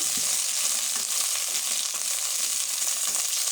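Slices of pointed gourd (potol) sizzle in hot oil in a pan, a steady close hiss with scattered crackles and pops, no voices.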